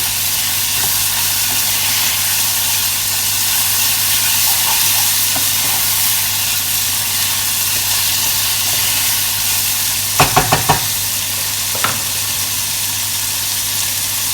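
Bacon frying in a pan for poutine prep, loud steady sizzle and hiss throughout with a few sharp clatters near the end, no talk.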